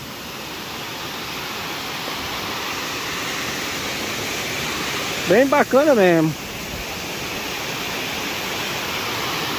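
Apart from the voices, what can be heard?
Cachoeira do Roncador waterfall in Paraíba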